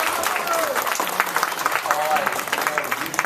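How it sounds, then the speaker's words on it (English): An audience at a candidates' meeting applauds steadily, a dense wash of clapping that continues throughout, with voices speaking over it. "So when I speak, folks clap."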